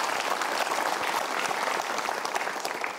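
Steady audience applause fills the room throughout, dense and even, with many hands clapping at once and no break in the sound.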